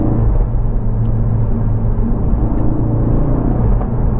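Tuned Ford Focus RS with a K&N air filter, Mountune boost pipe and Dreamscience Ultima 2+ upgrade, heard from inside the cabin while driving, a steady loud low engine rumble and intake drone with no talk.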